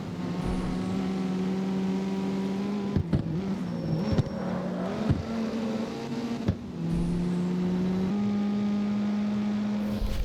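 A Nissan 240SX in the Need for Speed Underground racing game, running with nitrous: a loud, steady engine drone holding high revs, broken by quick gear shifts and brief dips before climbing again, with no talking.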